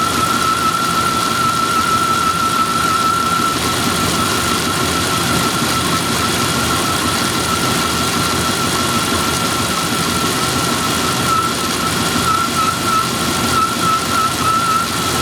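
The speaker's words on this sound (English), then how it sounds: "as soon as these switch, then it'll get a rough idle for a minute." A 2000 Dodge Durango with a 360 V8 idles after a cold start, a steady close engine drone with a faint high whine running through it, and no talking.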